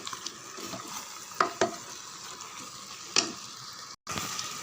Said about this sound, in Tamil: கூடவே புதினாவும் சேர்த்து நல்லா கலந்து விடுங்க